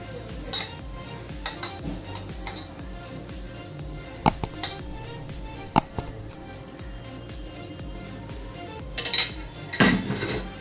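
Grilled lemony chicken and sautéed vegetables are arranged on a dish with scattered clinks and taps of cutlery against the plate, irregular and close, with a cluster of sharper knocks near the end.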